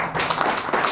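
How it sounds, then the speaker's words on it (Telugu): An audience at a music director's press event claps for a singer, with close, moderately loud hand claps in a loose rhythm and some faint background murmur. "Give her big claps."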